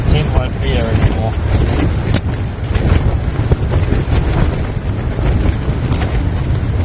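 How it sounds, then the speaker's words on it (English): Strong wind buffets a camping tent in an approaching rainstorm, a continuous loud roaring rush with heavy gusting rumble and flapping, steady throughout without a break. "These winds are picking up"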